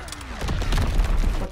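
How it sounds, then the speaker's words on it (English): Enemy mortar fire in the Call of Duty: WWII video game: dense, low booming impacts and rumble rolling continuously under faint game chatter, loud and close throughout. "Enemy mortar fire incoming!"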